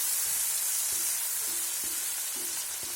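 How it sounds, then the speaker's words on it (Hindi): Green chilies fry with a steady sizzle in a pan, with tomatoes, while kadhi is cooked. The sizzling is loud, close and continuous, and a few soft stirring knocks sound through it. Nobody speaks. "मिर्ची को भी अच्छे से भूनेंगे।"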